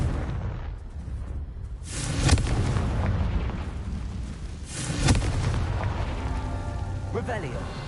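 Confringo spell blasts in Hogwarts Legacy, two booming explosions a few seconds apart over a rumbling background, with a voice casting spells in between.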